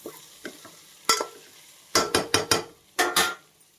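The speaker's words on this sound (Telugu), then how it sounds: "బాగా మిక్స్ చేసుకోవాలండి" Spoon stirring a rajma mixed vegetable curry in a pan, giving a series of sharp scraping strokes in irregular rhythm, two loose groups of three and two, over a faint sizzle with no talking.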